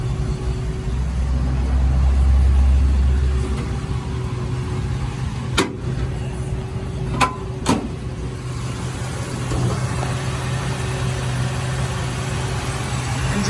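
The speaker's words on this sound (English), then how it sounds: "Engine sounds good." A 1959 Chevrolet Apache truck engine idling steadily with a low, even rumble, interrupted by a few brief sharp clicks or knocks; no one speaks.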